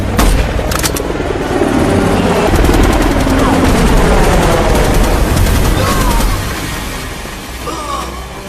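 Battle scene gunfire from a sniper war film: heavy bursts of automatic fire and explosions over a helicopter, loud and continuous with sharp cracks early and a slight easing near the end.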